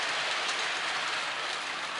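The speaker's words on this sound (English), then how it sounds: "Train is hitting the other end of the, I guess, all visible staging." HO-scale model railroad train running along layout track through point-to-point staging near a town scene, a steady close hiss of wheels and motor rolling continuously without break.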